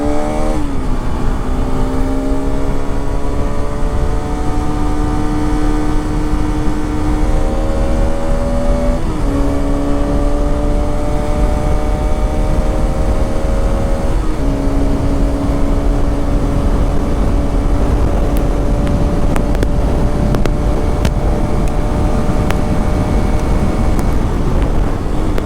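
A 2025 Bajaj Pulsar RS 200 motorcycle accelerates hard in third gear, its engine whine climbing steadily and loud through several rising pulls, with wind rush over the whole run.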